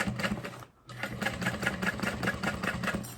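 A sewing machine stitches a Hexatote bag, a fast steady run of needle strokes close by that stops briefly near the start and then resumes at an even pace.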